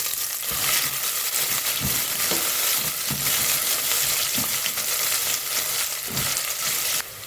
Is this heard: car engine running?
no